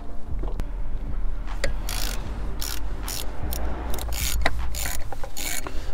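M8 spline screws being undone on a VW Golf with a hand ratchet: a close, steady run of clicking ratchet strokes with metallic rasping, repeating in quick bursts, with no voice.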